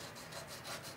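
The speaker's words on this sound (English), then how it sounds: "We're going to begin by sanding the elevator and the fuselage." Sandpaper rubbed side to side over balsa wood model airplane parts on a cutting board, a soft, close, continuous scratchy rasp with a few gentle strokes in about a second.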